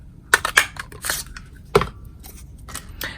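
A 1 1/2 inch circle punch cuts stamped paper for a shaker card, giving a few sharp clicks and crunches close up, with soft paper handling between them and no talking.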